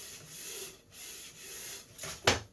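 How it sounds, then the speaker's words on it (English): Light rubbing and scuffing across a wood surface for a DIY fly-tying station, a steady close abrasive hiss in three strokes separated by pauses, ending in a sharper louder scrape. "So we're going to scuff it up a little bit,"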